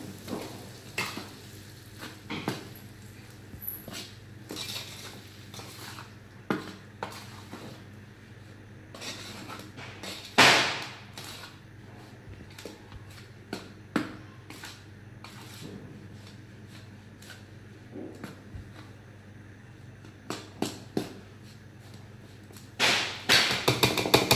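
A hot mixture for karanji is worked and mixed by hand or spoon in a bowl, giving irregular soft scraping and rubbing strokes with scattered louder swishes, close and fairly quiet, with no talking.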